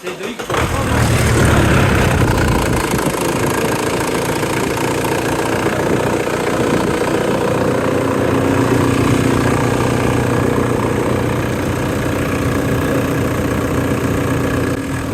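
A Mitsubishi car engine at a vehicle auction, starting and then settling into a loud, steady idle that runs without a break close to the microphone.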